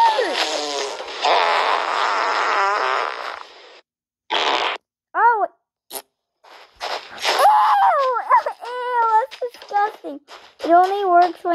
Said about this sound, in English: You can fart in this game.